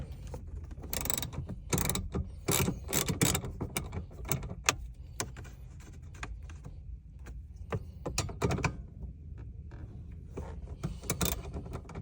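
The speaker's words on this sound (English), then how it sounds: "I believe these are 10mm screws. So let me go get my ratchet." A ratchet takes 10mm screws out of the dashboard of a 2016 Scion iA, giving close, irregular bursts of rapid clicking and ticking with brief pauses between turns, and no talk.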